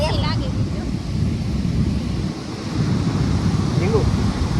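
Sea waves and wind roll steadily at the seashore in a continuous low roar with microphone buffeting, while faint voices drift in the background.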